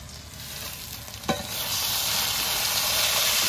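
Tomatoes frying with browned onions in a hot pan, a steady loud sizzle with a single sharp stir scrape early on, close and continuous without talk.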